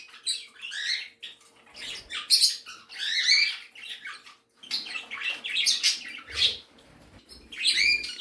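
Budgies in a bird room chirp and chatter in quick, busy bursts, several birds calling close by with brief pauses between, and faint fluttering or patter underneath.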